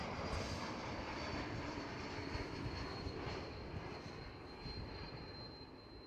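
A KLM Cityhopper Embraer E195-E2 jet at Schiphol Airport, Amsterdam, gives a loud, continuous engine roar that stays steady throughout with a faint high whine on top.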